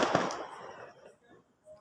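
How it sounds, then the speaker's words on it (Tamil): Auto bomb firecracker set off for Diwali, one sharp close bang that fades into a rumbling tail, followed by a brief faint voice. "இந்தாங்க ஆட்டோ பாம்."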